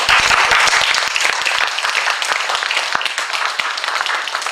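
Audience applause at an acupuncture lecture: a dense, steady burst of many hands clapping that starts loud and close and stays busy throughout, with no talk over it.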